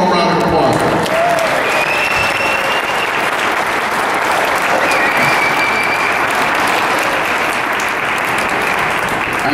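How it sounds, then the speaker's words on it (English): A crowd applauds a departing speaker, Congressman Renacci, at an indoor Cleveland Right to Life Walk for Life gathering in the Halle Building: dense, steady clapping fills the whole stretch at full strength, with some voices mixed in. "please give him one more round of applause."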